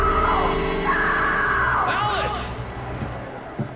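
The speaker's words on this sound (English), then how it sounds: "Why are you screaming?" A character in the Alan Wake Remastered video game screams and yells in loud, drawn-out cries over a dense game soundscape, with a sharp slam near the end.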